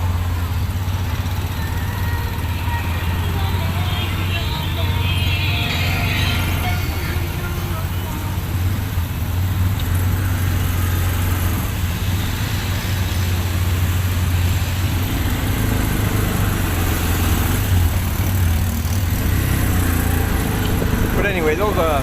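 A car engine idles steadily in slow traffic behind a small food truck on a rural road, a continuous low rumble with passing road noise filling the whole stretch, and no one speaking.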